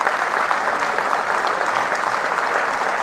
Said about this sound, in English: I don't know why they are clapping.